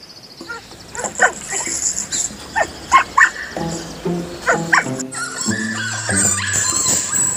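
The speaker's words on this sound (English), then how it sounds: "Dog." A dog barks several times in quick, uneven bursts, mixing sharp yips and a short whine, close and fairly loud.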